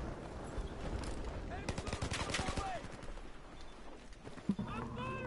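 Rapid bursts of video game gunfire crackle in quick clusters, mid-distance, with a few stray shots and background game noise.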